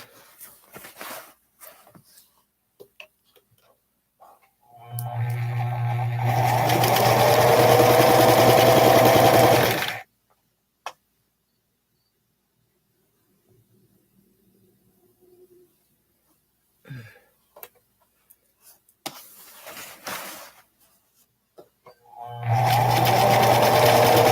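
A sewing machine stitches a quilt in two loud, steady runs, one early and one at the end, separated by a quiet pause filled with faint handling noises.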